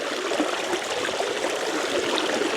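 Water rushes rapidly into a field tile inlet that is partly blocked, making a steady, close gurgling stream with a dense, even rush and no speech over its short length.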